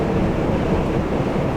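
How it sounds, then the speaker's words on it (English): Strong gusting wind from a UK storm battering a vehicle on the road, a steady loud broadband roar with buffeting rumble throughout and no clear breaks. "Probably hear the wind blowing me onto the rumble strips."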